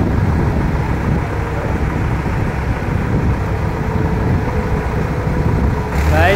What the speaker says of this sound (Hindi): आवाज़ बहुत आ रही है गाड़ियों की।